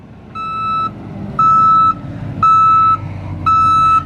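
A reversing dump truck backing in to unload gravel gives off four evenly spaced, loud electronic beeps over a low diesel engine rumble, with no voices heard.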